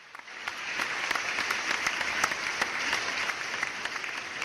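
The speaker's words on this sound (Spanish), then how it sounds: "Un aplauso para ellos, por favor." Audience applause for debate participants on a Panamanian youth debate television program, a steady wash of many hands clapping at moderate volume throughout, with no talking over it.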